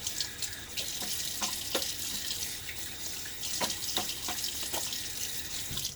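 A bathroom tap runs steadily while someone rinses their face after a wet shave, with a constant close splashing hiss broken by small knocks and splashes from hands in the stream.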